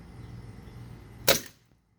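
A Lancer Defense Scorpion air gun fired at a clay target, a single sharp crack near the end after low background hum, then quiet.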